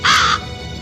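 A single sharp, loud raven caw rings out close and alone, a sound effect in a Spanish audiobook of Edgar Allan Poe's The Raven.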